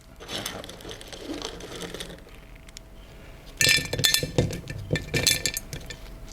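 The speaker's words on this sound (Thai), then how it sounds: "น้ำตาลกรวด500กรัมนะครับ เราก็จะใส่ลงไปเลย" Rock sugar crystals poured into a glass jar over a layer of plums for plum liquor: a soft rustle at first, then loud bursts of clinking and rattling as the lumps strike glass.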